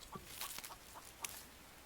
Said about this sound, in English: hear you, chicken.